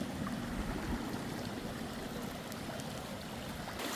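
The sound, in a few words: swollen creek flowing after heavy rain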